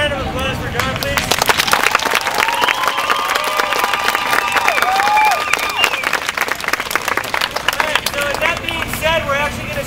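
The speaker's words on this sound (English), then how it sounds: "let's hear another round of applause for John, please" An audience at a Take Back the Night rally applauds, with steady, loud clapping mixed with cheering and crowd murmur. Voices and some whistles carry over it throughout.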